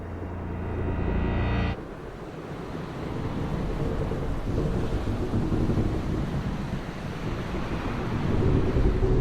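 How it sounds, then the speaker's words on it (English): Ocean water rushes and surges steadily around a galleon under way in the Bloodstained game, a broad wash of wave and wind noise that swells gently over nine seconds, with a short tonal musical note fading out at the start. "Their galleon cuts through the water,"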